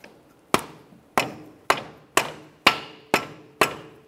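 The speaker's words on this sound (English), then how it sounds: "we can use a rubber mallet on the very end of the axle here" A rubber mallet taps the end of a 2003-2007 Honda Accord front left CV axle, seven sharp, evenly spaced knocks ringing close and clear with short decays, no voices.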